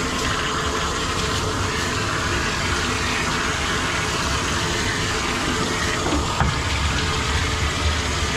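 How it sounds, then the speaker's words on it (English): Spray water rinses a severely matted Schnauzer during grooming, a loud, continuous broadband hiss of running water that stays steady without breaks. "We're gonna rinse this off."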